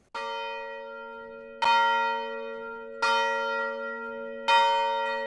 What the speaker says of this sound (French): La cloche de Puebla a été installée dans le clocher de l'église des Pêcheurs.